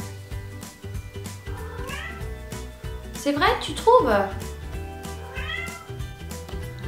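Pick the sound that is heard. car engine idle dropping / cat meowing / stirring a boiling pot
cat meowing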